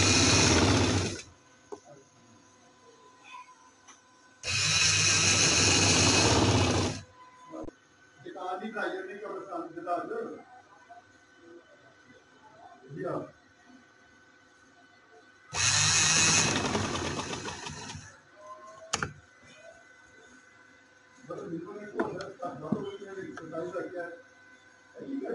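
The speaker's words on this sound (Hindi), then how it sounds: "ये हमने जो निशान लगाए थे उसके ऊपर रख के सिलाई लगा लेंगे।" Sewing machine stitching kameez fabric along marked lines, three loud whirring bursts of a few seconds each, separated by handling noises and talking between runs.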